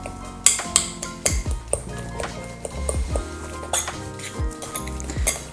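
A utensil mixes fish cake mixture in a bowl with repeated, uneven clinks, knocks and scrapes, close and fairly loud.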